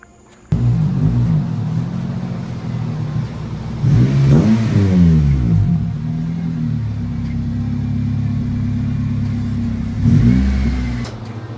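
An Acura RSX Type S engine revs and rumbles steadily as the car pulls into a shop, with two louder throttle swells around the middle and near the end, close and with no talk.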